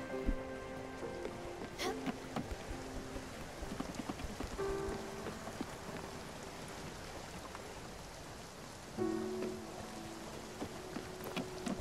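Rain falls steadily in the video game Spiritfarer, a constant soft patter and hiss with faint tonal notes drifting in and out behind it.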